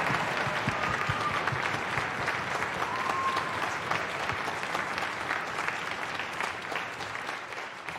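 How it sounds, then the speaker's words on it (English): Applause from a concert audience at an honors string orchestra performance, sustained and even across the whole stretch, fairly quiet and unaccompanied by talk. "So how about a round of applause for Mr. Riggs, Mr. Rollins, Mr. Hile"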